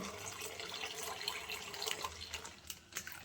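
Milma milk poured slowly into a pot, a soft, continuous trickling and splashing of liquid, faint and close, with light drips toward the end.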